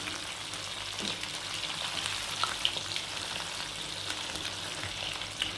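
Chicken pakoda deep-fries in oil with a steady, soft, dense bubbling hiss throughout, joined by occasional faint stirring clinks, heard close and fairly quiet.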